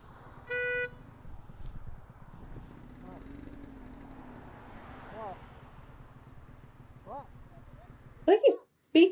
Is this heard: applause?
no